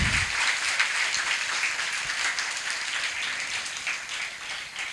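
School audience applauding to welcome a guest speaker, a dense, steady patter of many hands clapping for several seconds, fairly close and continuous without voices.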